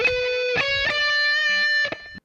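A heavily overdriven electric guitar plays a brief chorus phrase from a song: a few sustained lead notes with slides between them, loud and upfront, ending abruptly, with no one talking.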